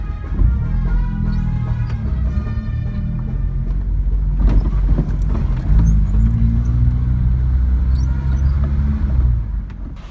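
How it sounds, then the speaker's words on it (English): A Land Rover caravan carrying the British ambassador to Mexico rolls through the narrow, one-lane streets of Mineral del Monte in Hidalgo, with a steady, close engine drone and tire rumble that holds for the whole stretch, no voices. "This Land Rover caravan is carrying the British ambassador to Mexico."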